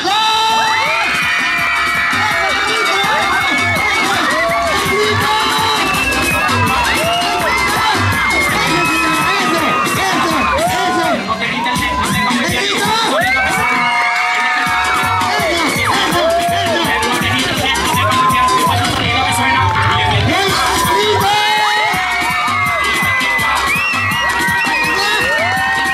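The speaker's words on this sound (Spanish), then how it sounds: "Oigan a la gente cómo aplaude," A dense crowd at a clown show in Chapultepec, Mexico City, shouts, whoops and cheers continuously and loudly, with children's high voices prominent, scattered claps and occasional bangs throughout.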